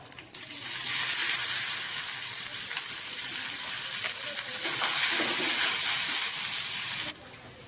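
Onion and dried red chillies frying in a pan with cumin for a North Indian curry, giving a steady, bright sizzle that swells slightly midway and stops abruptly near the end.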